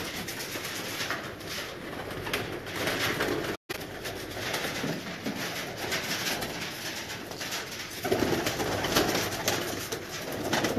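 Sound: pigeons cooing

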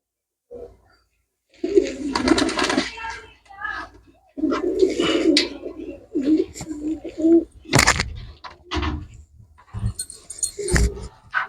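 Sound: pigeons cooing while being handled

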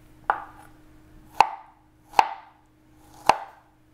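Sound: knife cutting strawberries into slices

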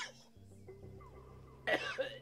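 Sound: a person coughing

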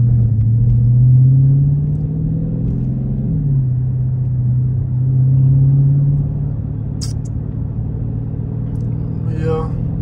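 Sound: widebody Scat Pack car driving at night

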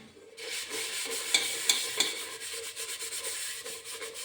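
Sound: scrubbing a burnt milk and tea pot with scrubber and Vim

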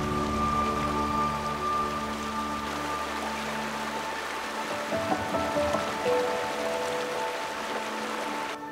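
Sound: mountain stream water flowing

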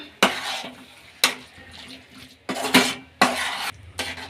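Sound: stirring potato palya with coriander leaves in a pan

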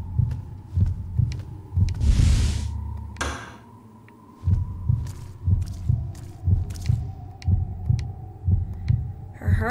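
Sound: character's racing heartbeat in the video game Kuon

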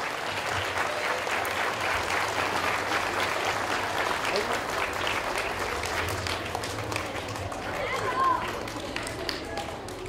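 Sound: applause

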